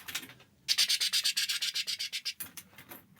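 A voice imitates a helicopter with a quick run of breathy, chopping pulses that last a couple of seconds and slow slightly toward the end, close and fairly soft.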